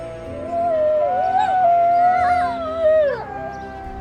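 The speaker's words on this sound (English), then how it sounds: "Picture wolves howling across misty valleys at dawn." A wolf gives a long, rising and falling howl that wavers and bends in pitch, with a second voice joining briefly, clear and prominent over faint background, evoking misty Wyoming valleys at dawn.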